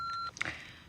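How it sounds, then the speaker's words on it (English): An answering machine's steady electronic beep sounds for about a third of a second after the outgoing greeting, followed by a short burst of brighter tones and noise. "Please leave a message at the sound of the beep"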